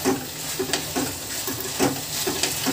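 Vegetables for chilli chicken are stir-fried, giving a loud, close sizzle with rhythmic scrapes and clinks of a spatula against the pan, repeated every half second or so, with no talking.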